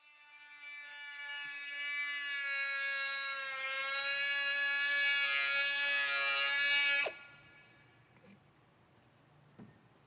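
A power tool whirs steadily for about seven seconds while a Honda K20C1 engine is prepped for an S2000 Type R swap, a close, high-pitched motor whine that swells slightly and then cuts off abruptly, followed by quiet.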